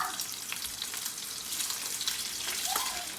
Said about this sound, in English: Put a little bit of oil in this pan, and we're gonna get ready to sear beautifully that Spam